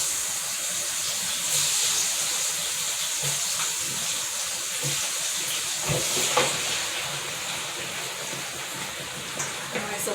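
Corn on the cob frying in a deep fryer, six ears at a time, gives a steady, close hiss of sizzling oil with a few brief crackles and bubbling pops throughout.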